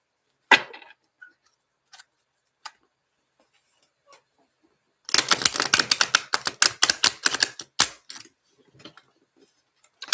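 Tarot cards are shuffled close up: a few isolated taps, then a quick rapid flurry of crisp riffling clicks, followed by scattered light taps.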